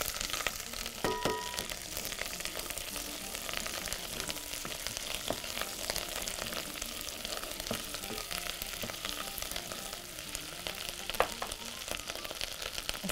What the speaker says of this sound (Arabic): كده الزبدة سخنت، نبتدي بقى نحط الثوم. هيتشوح على طول.